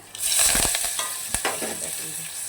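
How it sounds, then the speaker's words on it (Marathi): Cumin and mustard seeds tempering in hot oil, with a loud burst of sizzling and crackling at first, then a steady hiss broken by a few sharp pops and spoon scrapes. "जिरा आणि मोहरी अशी टाकून घ्यायची"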